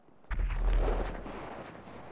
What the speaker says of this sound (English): Did you hear that? That was a big explosion. It was a meteor strike, I believe.